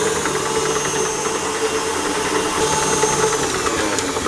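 An electric mixer beats condensed milk buttercream in a bowl with a steady, continuous whirring drone, close and fairly loud throughout.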